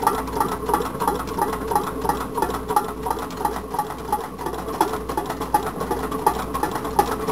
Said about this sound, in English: I can hear the displacer touching the bottom.